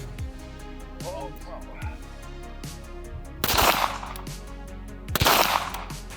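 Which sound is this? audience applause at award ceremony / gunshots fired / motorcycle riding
gunshots fired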